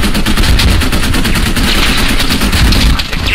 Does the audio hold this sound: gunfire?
yes